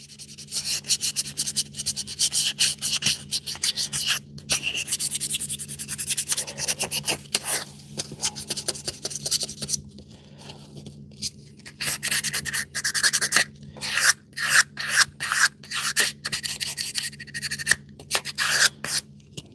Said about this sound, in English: this little Avro here that I'm sanding down